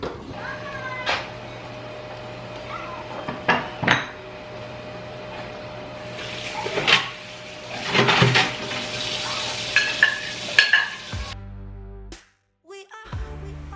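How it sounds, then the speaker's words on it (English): Intermittent knocks, clatters and light scraping of a cat playing with a small object indoors, with a few faint meows and household noises in between. "the cat is like batting something around in the background of me doing this voiceover"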